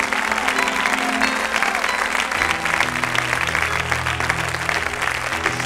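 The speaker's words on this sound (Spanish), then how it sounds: "Ese aplauso, dáselo fuerte a Dios" A church congregation applauds steadily throughout, a dense sustained wash of clapping with music playing underneath and no clear speech.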